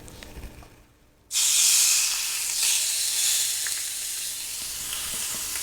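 Garlic-lime chicken lands skin side down on a hot grill and erupts into loud, bright sizzling that starts abruptly and then settles into a steady hiss.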